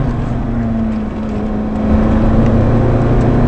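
A Ferrari race car's engine drones loud and steady from an onboard position on the Chinois des Bois track, holding a constant tone that climbs slightly in pitch and volume partway through.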